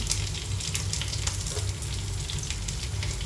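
Ginger, garlic and curry leaves sauté in a pan for a home-style chicken curry, a quiet, continuous sizzle with occasional brighter crackles and no talk.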